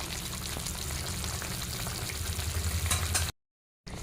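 A pot of sour fish curry with hog plum bubbles and sizzles steadily at close range, a dense continuous hiss with faint low bubbling, broken by a short silent gap before it resumes.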